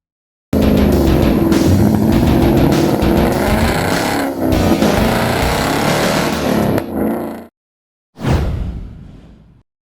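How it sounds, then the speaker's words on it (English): 2020 Ford Mustang Shelby GT500 on a race track, its engine roaring loud and close as it accelerates past, tapering off before a short second burst of engine noise. "we're checking out the brand new GT500 Mustang on the track"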